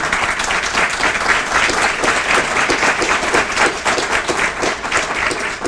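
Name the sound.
audience applause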